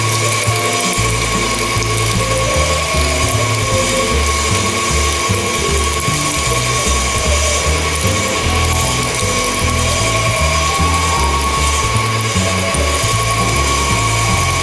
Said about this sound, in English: I got the last bit of the chuck tender pieces in the hopper here, and I'm just going to finish off this grind.